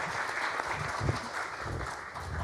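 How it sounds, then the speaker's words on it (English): Audience applause for forum panelists at a sustainable finance launching ceremony, a steady mass of clapping from a crowd lasting throughout, fairly even in loudness. "Maybe a round of applause first for our panelists."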